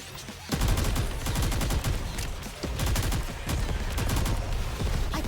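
Gunfire in the Nikke shooter game, loud rapid bursts of machine-gun shots in quick repeated volleys with a brief dip midway, close and dominant with no talk over it.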